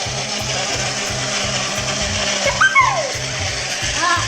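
A small portable USB fruit juice blender runs steadily, its motor whirring with a pulsing churn and liquid sloshing inside, close and fairly loud with a brief voice over it.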